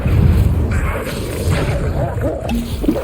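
Fiery Incendio spell blasts in the Hogwarts Legacy video game, a dense rumbling burst of booming, crackling impacts that layers over a character's shouting, loud and close throughout.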